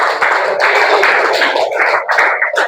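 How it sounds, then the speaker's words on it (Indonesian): Students in a classroom clap together, a loud burst of dense hand claps that stays strong for a couple of seconds with a few uneven stops and restarts. "Tepuk tangan untuk kalian semua."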